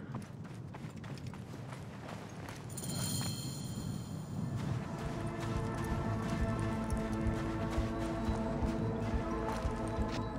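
A horse runs with steady clip-clopping hooves in the Assassin's Creed Origins video game, the quick rhythmic beats close and continuous over game ambience, with no talk.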